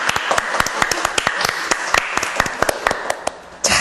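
Scattered claps from a small audience at a 2011 Miss Korea talk show, irregular and fairly close, with sharp individual hand strikes rather than a dense roar.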